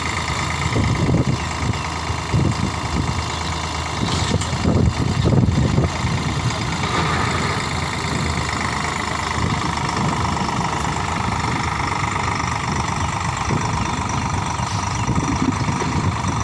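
A large tractor engine runs steadily at idle on a farm, a continuous low rumble and vibration close by, with no voices.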